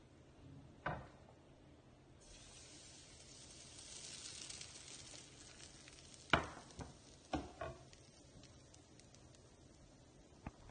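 Pancake batter frying in a pan, a soft steady sizzle that swells midway, broken by a few sharp utensil clinks and scrapes near the end, fairly quiet and close with no voices.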